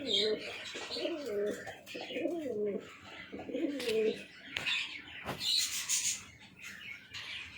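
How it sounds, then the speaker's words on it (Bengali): Male Lokkha pigeons coo in a series of deep, rolling, repeated calls with short pauses, close and clear, while softer chirps and brief wing flutters sound in the background. "ওটা হচ্ছে ছেলে কবুতর যে ডাকতেছে"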